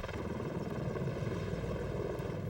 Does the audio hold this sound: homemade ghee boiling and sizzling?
no